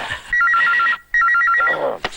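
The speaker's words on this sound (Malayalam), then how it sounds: "Phone phone." A telephone bell rings loudly and close by in two quick trilling bursts separated by a brief gap, with a short knock or thud near the end.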